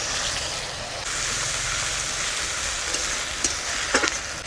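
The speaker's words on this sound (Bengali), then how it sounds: "ওই তেলে দিয়ে দিব পেঁয়াজ বাটা, কাঁচা লঙ্কা আর টমেটো" Onion paste, green chili and tomato go into hot oil left from frying koi fish for a Bengali tel koi curry, giving a steady close sizzle with a few stirring clinks near the end.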